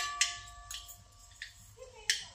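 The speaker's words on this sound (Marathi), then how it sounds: "मोहरी चांगली तडतडली" Mustard seeds crackling in hot oil in a kadhai before guar bean curry is added: a few sharp, sparse pops scattered over a quiet, low background.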